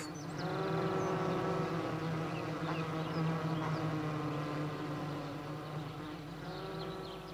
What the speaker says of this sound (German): die Vögel sangen und die Bienen summten